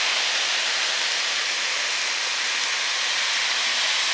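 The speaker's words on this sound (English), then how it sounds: "next we're gonna add in the frozen broccoli, the tomatoes, and the coconut milk" Frozen broccoli, tomatoes and coconut milk hitting a hot pot, giving a loud, continuous steamy hiss that stays even and unbroken from start to finish.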